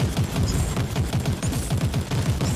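Rapid, rhythmic automatic turret fire in Warhammer 40,000: Inquisitor - Martyr, a steady stream of punchy low-pitched shots with a few sharp metallic pings mixed in, continuous and close.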